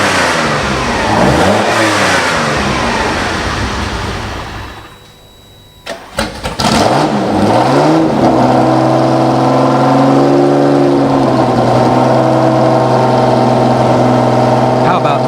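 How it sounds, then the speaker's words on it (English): Ferrari 365 GT4 BB flat-12 engine starting after a short quiet gap, then settling into a loud, steady, close rev with rising and falling pitch; an earlier engine is heard accelerating beforehand. "addictive sound. It's being made by a Ferrari 365 GT 4VB Flat 12"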